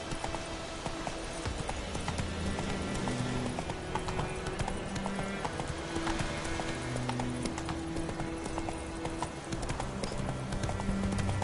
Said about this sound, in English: Whoa there, Roach. Looking for trouble? Slower